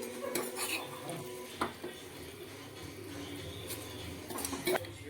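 A metal spoon scrapes and clinks against a pot while stirring amla tempering into rice, with a few sharper knocks and faint sizzling in the background.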